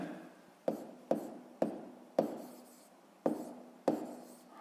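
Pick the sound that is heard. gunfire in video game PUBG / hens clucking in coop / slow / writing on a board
writing on a board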